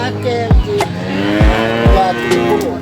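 Cattle moo several times, a few short low calls spaced through the clip over a steady hum of background noise, close and loud.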